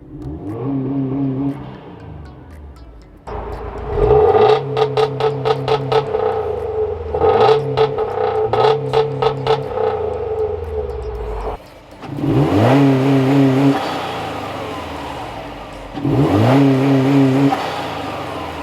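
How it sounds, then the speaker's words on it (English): Car engine with a Cobb Accessport V3 installed, revved in neutral with the clutch pressed: several loud close bursts of revving, some with rapid fluttering pops, rising and dropping between steadier idle stretches. "So you press your clutch and then rev it, and then you're gonna hear this."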